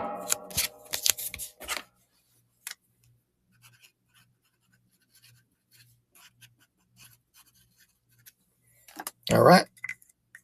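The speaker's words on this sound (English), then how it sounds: "shuffle 5 times" A deck of trading cards is shuffled in short riffling bursts near the start and again at the end, with quiet handling clicks in between and a voice speaking briefly.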